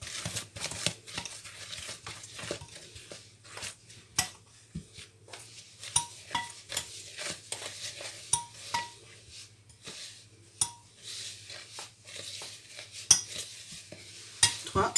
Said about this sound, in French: Continuez à mélanger.